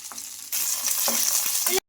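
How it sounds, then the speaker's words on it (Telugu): Green chilies fry in hot oil in a pan, a loud steady sizzle that starts abruptly, with a few light stirring scrapes along the way, then cuts off sharply at the end. "ఈ మిర్చిని ఫ్రై అయ్యే వరకు ఫ్రై చేసుకోవాలి"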